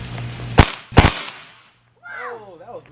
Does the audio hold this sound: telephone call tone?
no